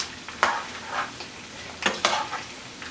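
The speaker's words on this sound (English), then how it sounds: "it's literally sizzling" Griot, Haitian fried pork, frying in hot oil, a steady sizzle with scattered sharper bursts and stirring scrapes, close and moderately loud with no talking.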